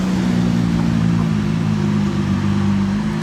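A baby blue Lamborghini SVJ Roadster overtakes on a Monaco street, its engine a steady, loud droning roar held close throughout.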